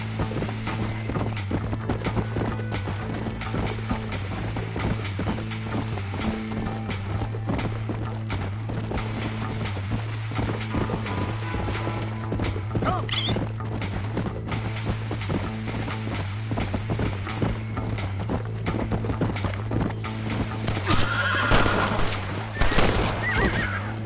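Horse in the Red Dead Redemption video game, neighing and whinnying loudly with clip-clop hooves under a steady low game drone, the whinnies clustering toward the end, with no speech.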